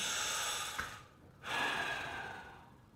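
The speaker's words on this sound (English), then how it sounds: "you'll breathe in, breathe out, and then breathe in" Close, audible breathing during a hip and hamstring stretching exercise: a long airy exhale, a short pause, then a deep inhale tapering off, with no talking.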